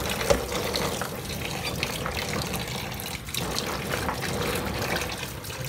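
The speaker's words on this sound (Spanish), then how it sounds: "Hay que lavarlo bien porque el corozo siempre está sucio." Corozo palm fruit is rinsed under a running tap, a steady close rush of water and splashing lasting throughout, with the fruit being rubbed and stirred in the stream.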